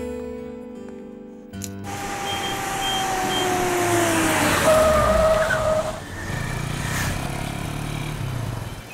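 A new car starts up and pulls away, its engine rising in a long, swelling drone that peaks and then settles as it drives off. Music plays faintly at the start, and no one speaks.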